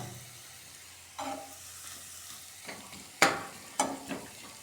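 Raw turmeric chutney in hot desi ghee, following an oil tempering: a quiet, low hiss with a handful of sharp scraping and clanking stirring strokes, the loudest in the middle. No voices.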